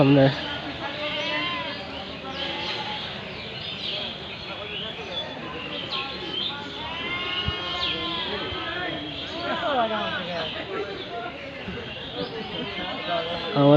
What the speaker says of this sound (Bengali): আমরা এখন রাজশাহী গোদাগাড়ির দেশি ছাগল খামারে আছি